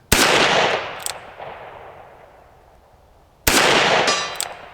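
Two loud .357 shots from a Henry Big Boy revolver strike a steel plate at distance, each a sharp crack followed by a ringing metallic clang that decays slowly, outdoors with no talk.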